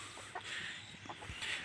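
A large aseel rooster gives a few soft, low clucks, faint and close, with quiet gaps between calls and no crowing.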